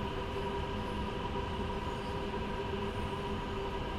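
BR 187 electric locomotive in Train Sim World 2 with modded sounds, climbing the steep Spessart Rampe grade: a steady, droning hum with layered electric whine tones under rolling rail noise, constant and unbroken throughout.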